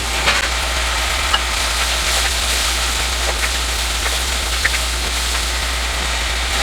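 Medium-sized sliced onion frying in roasted masala for a dhaba-style masala bhindi: a loud, steady sizzle with a constant low hum underneath and a few faint clicks scattered through.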